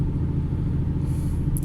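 Low, steady exhaust drone from a Ford Mustang 3.7 V6 with a Borla ATAK system, BBK shorty headers, H-pipe and cat delete, rumbling continuously at low RPM with a faint hiss on top.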